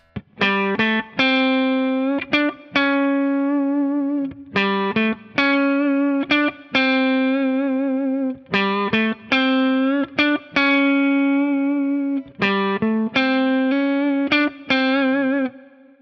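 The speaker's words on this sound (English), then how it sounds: "this is what it sounds like with plenty of distortion and delay." Electric guitar drenched in distortion and delay, playing loud sustained notes and short phrases, with gaps where the echoes trail off between bursts.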